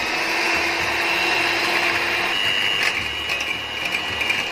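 An electric blender whips egg whites for a fluffy omelette with a loud, steady motor whir and grinding hum that runs continuously, rattling slightly toward the end.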